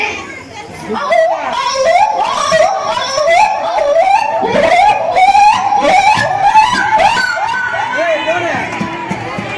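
At a school Pongal celebration, a student mimics a black monkey's call with a rapid series of high, rising and falling whooping cries, loud and near, while children shout and chatter excitedly in the background.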